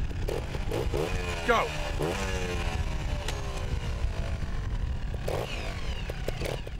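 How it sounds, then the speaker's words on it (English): Trials motorbike at a teen trials event, its engine firing up and revving in sharp, rising bursts as the rider sets off, with a brief shouted word and voices in the background. "You start your bike."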